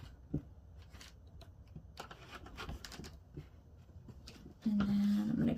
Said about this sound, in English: I'm gonna go ahead and cut this piece out